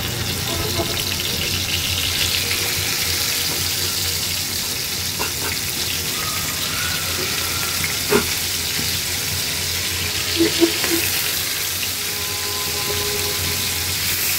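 Fish frying in oil in a home kitchen, a steady broadband sizzle running throughout with a few faint clinks and small pops, no talking.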